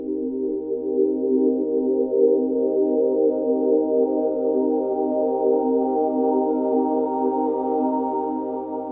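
Ambient synth pad sample from a sample CD: a warm, sustained chord with layered harmonics and a low drone, holding steady and fairly loud for the whole stretch with no other sounds.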